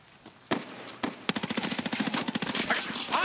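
Gunfire in Escape from Tarkov, a few single shots, then a rapid full-auto burst of sharp, evenly spaced cracks, close and moderately loud, with no talk over it.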